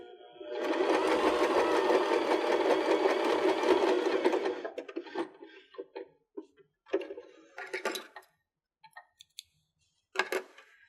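A sewing machine stitches through cork fabric in a steady, continuous run for about four seconds, then stops and gives several short, start-stop bursts of stitching.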